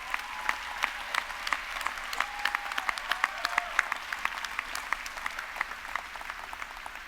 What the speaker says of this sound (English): let's give these individuals a huge round of applause